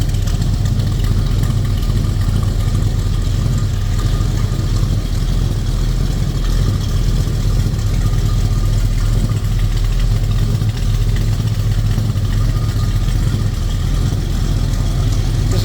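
A 1950 Dodge Business Coupe street rod with a rebuilt 360 engine idles steadily, a loud, close, low rumble holding an even rhythm throughout with no voices.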